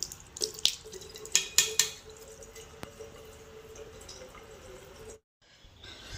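Water runs from a tap into a sink while someone washes their face, a steady splashing flow broken by a few sharper drips and splats, then a brief pause before the flow resumes.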